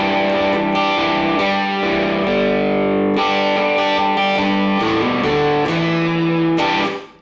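A distorted electric guitar plays a melodic tune of sustained notes and quick phrases, loud and up front, with no voices.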